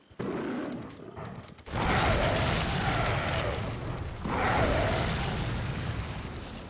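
An incendiary grenade exploding among a mob of enemies in Resident Evil 4 (2005), a sudden loud whoosh and roar that swells again as flames rage, with no speech.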